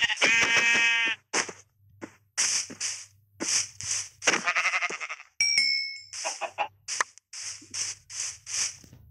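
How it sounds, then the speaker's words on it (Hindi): Several sheep bleat in Minecraft survival mode amid a busy game mix of ding-like pickup chimes, hit sounds and clicks, with the bleats recurring in short bursts throughout. "मैं इस भेड़ को मारने वाला हूँ"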